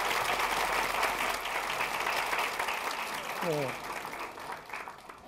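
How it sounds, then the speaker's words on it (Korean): Audience applauding in a university lecture hall during a talk on law and human rights, a sustained rush of clapping that fades out toward the end, with a brief spoken word from a voice partway through. "박수 한번 다시 한번"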